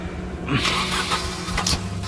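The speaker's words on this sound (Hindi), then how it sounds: "सूरज ने गाड़ी को फिर से स्टार्ट करने की कोशिश की" A car engine cranks and tries to start, a short whirring turnover followed by a second attempt, close by and alone, with no voices.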